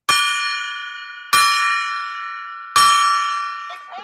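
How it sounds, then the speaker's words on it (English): Golden gong struck three times at even intervals, each bright metallic ring sounding loud and close before decaying slowly into the next strike. "we're going to ring the golden gong for continued good luck"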